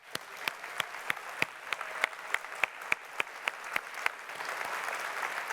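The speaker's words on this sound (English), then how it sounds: "please give yourselves a huge round of applause." An audience at Frontier Expo 2017, a game company's live event, breaks into sustained applause, starting with a few sharp, distinct claps that swell into a dense, steady wash of clapping in an indoor hall.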